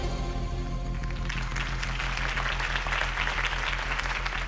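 A Gotham crowd applauds Harvey Dent's campaign speech in the Batman Telltale video game, dense clapping that swells in over a sustained low musical drone and carries on loudly to the end.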